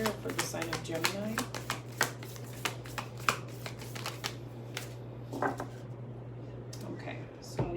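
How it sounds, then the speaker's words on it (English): Oracle cards are shuffled during a tarot reading: a close, rapid run of papery clicks and riffles that continues steadily, then thins out toward the end, with a voice faintly in the background. "Let me pull one of these oracle cards, please, Spirit, for the sign of Gemini."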